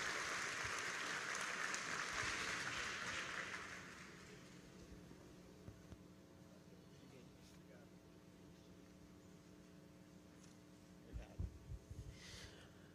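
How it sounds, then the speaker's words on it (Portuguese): A church congregation applauds to welcome a pastor: a dense burst of clapping for about four seconds, then it fades out, leaving a low electrical hum and a few faint knocks. "Você pode aplaudir ao Senhor pela vida dele."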